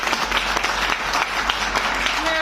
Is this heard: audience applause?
yes